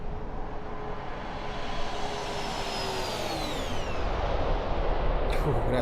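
A heavy McDonnell Douglas MD-11 tri-jet in Microsoft Flight Simulator 2020 roars past in a loud, steady flyby, its broad engine rumble sweeping downward in pitch as it passes.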